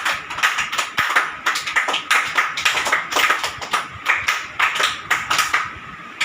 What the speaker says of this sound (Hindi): एक होती है विशेष ताली।